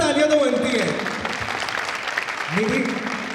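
Audience claps for a music group at an evening honoring Devaharam contributors, a broad steady patter of applause with sung or spoken voice tones rising over it at the start and end.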